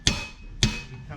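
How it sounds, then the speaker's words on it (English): A hammer gives two sharp metallic taps about half a second apart as the rear wheel axle of a Yamaha Vmax is driven in gently, each ringing briefly. "So just tap that in gently."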